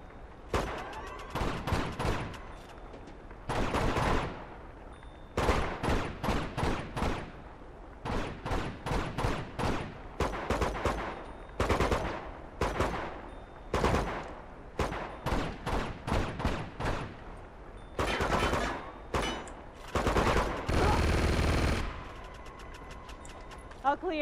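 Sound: turret gun firing in video game Uncharted 2: Among Thieves

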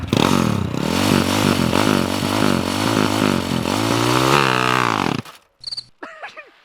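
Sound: motorcycle launching off and revving

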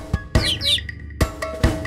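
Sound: bird chirping in a nursery rhyme

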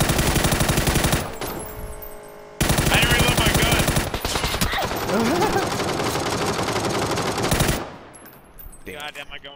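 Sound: gunfire in the video game PUBG

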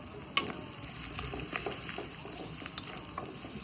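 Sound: peanuts frying in oil in a pan

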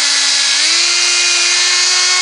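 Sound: drilling holes through wood for doll bunk beds

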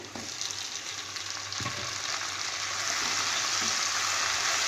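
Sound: chopped tomatoes added to frying onions in pan

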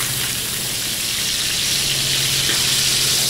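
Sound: duck sizzling in a pan heated to maximum

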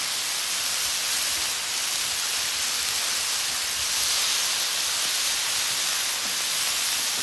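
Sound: shrimp steaming on griddle with garlic and lemon

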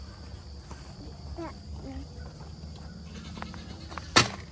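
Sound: goats at feeding time

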